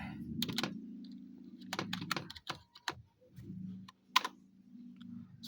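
Keys clatter on an external computer keyboard hooked up to a laptop, in irregular bursts of clicks over a low background hum, close and fairly quiet.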